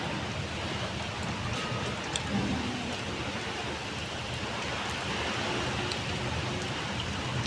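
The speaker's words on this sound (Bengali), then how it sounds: "বৃষ্টি হচ্ছে যখন খুব জোর," Heavy rain falls steadily and loudly in an even, unbroken roar, with no voices over it.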